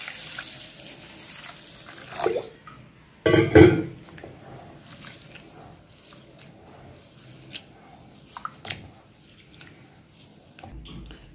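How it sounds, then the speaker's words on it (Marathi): Rice grains being washed by hand in water produce intermittent splashes, sloshing and swishing, with a louder pour or rinse burst early on and quieter squelches and drips afterward. "आता आपण हे 3 ते 4 पाण्यात स्वच्छ धुवून घेऊया"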